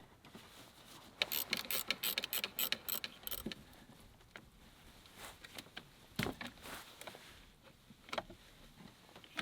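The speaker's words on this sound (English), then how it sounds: "Now I'm disconnecting the battery post clamps, negative first, then positive." Clicking and clinking metal as a wrench loosens car battery post clamps, quick bursts of ticks and scrapes followed by scattered knocks, fairly quiet and close with a faint background hiss.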